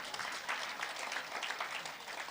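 An audience at a political town hall forum applauds, a fairly faint but continuous patter of many hands clapping with no voices on top.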